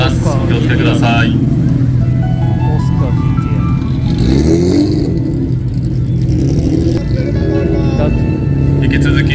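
Powerful supercar engines rumble and rev as the cars pass close by on an airfield runway at an air show, a thick mechanical drone with rising whines over steady noise.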